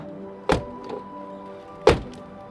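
Two solid thunks about a second and a half apart, a BMW 525ix Touring (E34) car door being shut twice because it is not latching, against a quiet low hum.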